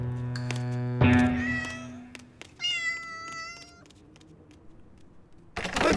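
An animated cartoon cat meows several times up close, long drawn-out cries with a wavering pitch, followed by quiet and a burst of rustling.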